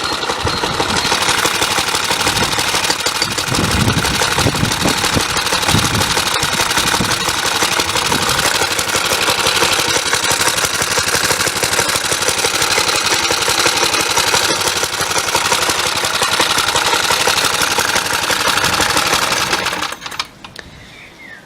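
A Suffolk Punch 30 lawn mower engine runs steadily and loudly for about twenty seconds, a rapid chattering drone close by that cuts off near the end.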